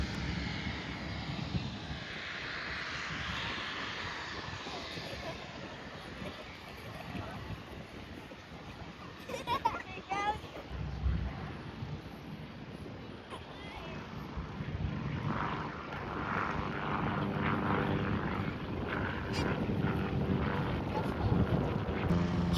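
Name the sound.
Royal Flying Doctor Service Pilatus PC-12 aircraft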